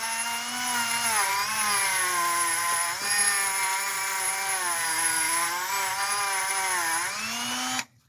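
A Dremel rotary tool whines loudly and steadily as it cleans corrosion off a Mustang water pump pipe. Its pitch dips and recovers with the load before cutting off abruptly at the end.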